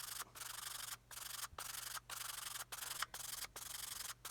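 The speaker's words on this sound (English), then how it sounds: "I'm just going to get in here and sand that away" Coarse sanding stick scrubbing away a raised area on a 1/72 scale plastic B-52 model part, a steady close rasping rub broken by brief pauses between strokes, with no talk.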